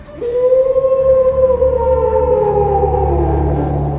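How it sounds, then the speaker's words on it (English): A white wolf's howl used as a story sound effect: one long, loud, sustained cry that slowly slides downward in pitch over about four seconds, over a low, steady rumble, with no voices. "She gasped as the white wolf howled"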